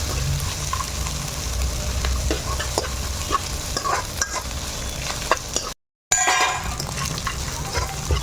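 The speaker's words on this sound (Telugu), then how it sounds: "ఇది ఈ ఆయిల్లో బాగా వేగాలి" Drumstick leaves fry in hot oil for a drumstick-leaf pulihora, giving a constant sizzle with frequent stirring scrapes and light clinks, close up, briefly cut to silence near the end; faint talk may sit underneath.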